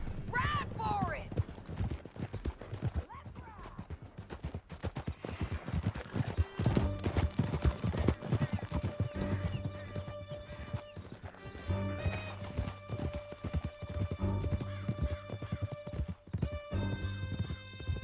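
Horses gallop through a canyon in Red Dead Redemption 2, hoofbeats pounding steadily under music, voices and a horse's whinny during a fast escape ride.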